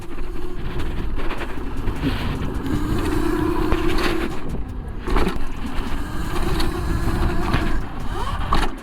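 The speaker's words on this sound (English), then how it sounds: "I'm gonna break the bike doing all these jumps." A Yozma IN10 Pro dirt bike hitting jumps off-road, its motor whining and surging up and down between landings, with scattered thuds and rough wind rumble close by.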